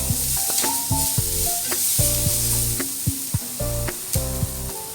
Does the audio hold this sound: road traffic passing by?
no